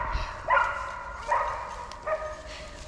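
A dog gives three short, separate barks spaced about a second apart, moderately distant, over faint background noise.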